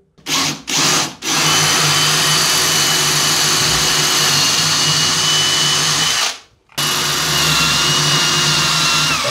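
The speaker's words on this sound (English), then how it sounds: "so now I'll just drill that through" A loud, steady power drill whirs continuously as it drills through a bathroom wall to mount a shower grab rail, stopping briefly a few times near the start and once more before resuming at full strength.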